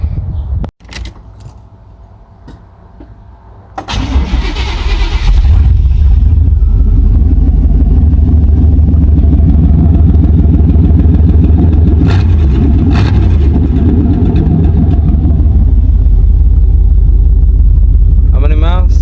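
Keys jangle, then a 1989 truck engine that misses now and then cranks and starts. It settles into a loud, steady idle close by and runs for the rest of the clip.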